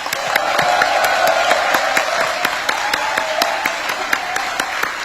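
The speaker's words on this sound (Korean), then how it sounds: "우리 다시 한번 대통령 네 분을 위해 뜨거운 환영의 박수 부탁드립니다" Warm welcoming applause from a gathering of Korean community members in the Philippines greeting four presidents, a continuous wash of clapping with faint crowd murmur underneath.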